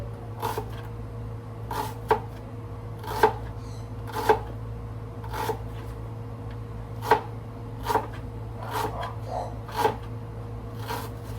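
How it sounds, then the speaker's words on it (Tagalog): Knife chopping onions and tomatoes on a board, about a dozen separate sharp chops at uneven intervals, close and fairly quiet over a steady low hum. "Kamatis at saka sibuyas. Umpisan lang natin ang hiwa."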